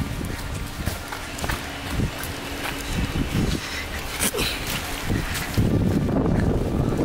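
Strong wind buffets and roars around a car in extreme stormy weather, with irregular gusts and thumps that swell louder toward the end.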